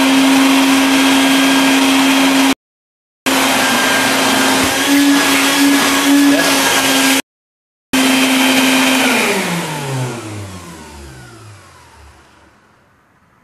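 A new shop vacuum runs with a loud, steady roaring whine, cutting out twice briefly, then powers down with a falling pitch as the motor spins to a stop.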